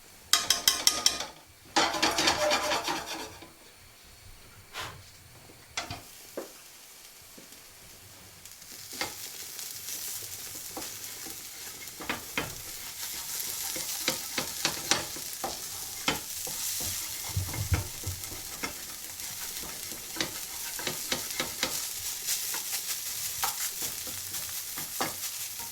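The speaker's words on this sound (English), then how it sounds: "I'm going to throw that fish into the pan, and absolutely roast it, dry roast it until it's completely disintegrated into sort of minced fish." Fermented fish dry-roasting in a pan gives a long, crackling sizzle broken by frequent scrapes and clinks of a utensil. It opens with a few loud clattering bursts, goes quiet briefly, then settles into a steady, close roast.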